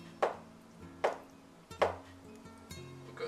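A knife chops through hot and sour soup ingredients on a chopping board, cutting them into strips: three sharp, close knocks about a second apart, then a softer fourth cut, with no talking.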